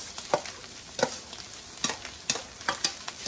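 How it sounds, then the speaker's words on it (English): Rice being stirred into a pan of frying peppers and whole masala mixture, a low sizzle under repeated scraping strokes of a spoon that come at an uneven pace, close and fairly quiet. "we're going to be adding the rice to our peppers and"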